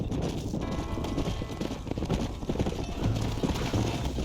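Horse hooves clip-clop at a steady walking rhythm in Red Dead Redemption, close and moderately loud, with a soft background rumble and no talking.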